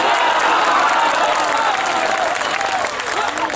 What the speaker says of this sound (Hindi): मैं हिंदू परिवार के मुखिया के जवाब में आपसे तालियां मांगता हूं